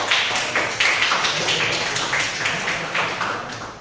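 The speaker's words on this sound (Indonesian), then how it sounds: "Aplaus untuk kelompok 3." A classroom audience claps for a student group that has just presented its discussion, a brief burst of scattered, uneven applause.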